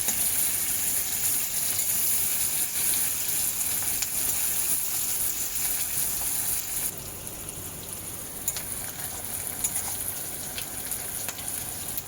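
Onions frying in a pan for a chicken dish, a loud, continuous close sizzle with occasional stirring, easing slightly in the second half.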